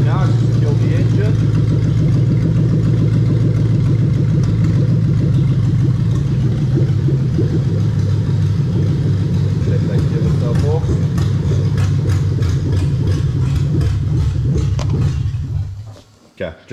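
A Toyota UZ-FE VVT-i V8, swapped into an IS200 with a J160 six-speed manual gearbox, idles smoothly and evenly with a steady low hum, then cuts off abruptly near the end.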